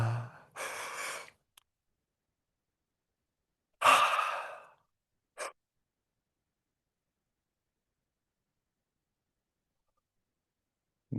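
People in a fascial movement class let out big yawns, a few breathy, sighing exhales spaced apart with long silences between them, close and fairly soft.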